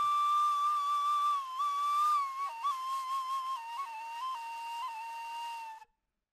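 A woodwind sample from a Sampphonics sample pack plays a sustained, whistle-like melodic line with small pitch steps and slides, clear and alone for about six seconds before cutting off.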